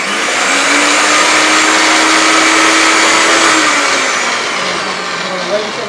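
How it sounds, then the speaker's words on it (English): A blender whirs steadily as it purees a garlic and thyme marinade, a loud, continuous motor drone that holds for about five seconds, then dips and wavers slightly as it winds down near the end. "we're going to blend this up, and make a nice marinade"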